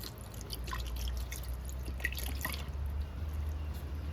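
Liquid trickling and dripping as red cane vinegar and soy sauce are poured into an Instant Pot electric pressure cooker for beef caldereta, soft splashes over a low steady hum.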